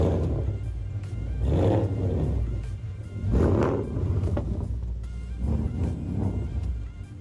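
A 2015-2017 Ford Mustang GT V8 fitted with long tube headers revs repeatedly at idle, giving about four deep, loud throttle blips that swell and fall over a steady rumbling idle, with no talking.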